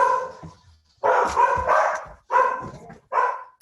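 Several dogs barking in a house in repeated loud bursts, some yips and whines mixed in, fairly close and heard alone.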